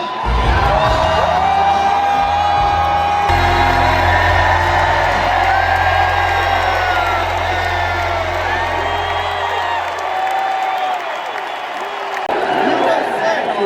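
A large rally crowd cheers, whoops and applauds for Donald Trump in a loud, sustained roar, with low rally music under the first ten seconds, then cheering carries on alone.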